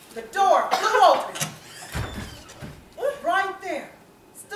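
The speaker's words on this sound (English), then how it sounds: "the door flew open." A door flies open with a single sudden thud partway through, heard under a storyteller's narrating voice.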